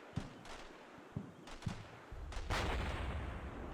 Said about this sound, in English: Plus, obviously, there's mortars everywhere.